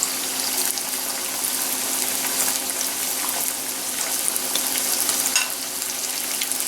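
Breadcrumb dough for schnitzel being stirred and mixed in a bowl, a continuous moist crackling, sizzle-like rustle with scattered scraping, close and fairly quiet with no talking.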